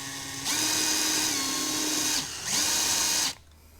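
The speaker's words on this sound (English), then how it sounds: "just so that my bit isn't sliding around as I'm trying to drill in" An electric drill bores through a wooden tree branch, whirring in two bursts, running steadily for nearly two seconds, pausing, then spinning again before stopping.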